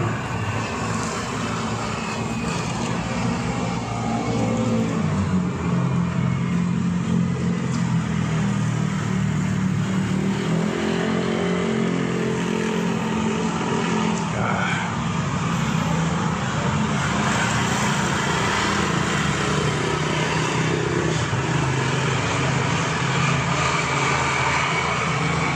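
A truck passes along a street in Thailand inside a continuous, loud wash of engine and traffic noise that swells and holds steady throughout, with no talking.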